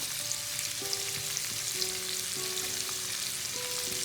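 A large batch of onions fries in spiced oil over high heat, a soft continuous sizzle with faint stirring, while a steady tonal hum runs underneath.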